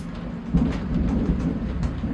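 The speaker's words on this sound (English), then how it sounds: "Oh, there's some thunder." Thunder rumbles steadily during a thunderstorm, heard from inside a greenhouse, a low continuous roll with rain hiss over it and no voices.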